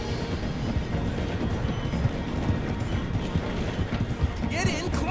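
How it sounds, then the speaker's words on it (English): A steam train in the Red Dead Redemption 2 video game rumbles and clatters along the rails as it slows, with a busy rhythmic clacking close by and a brief higher squeal near the end. "The train is slowing down to go through the station."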